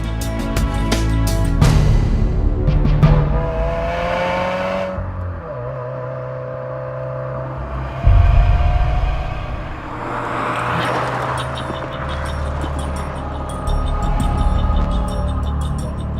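A 2017 Subaru WRX driven hard around a figure-eight course, its engine revving up loudly through rising tones with gear changes and swells of acceleration, close and unaccompanied by talk.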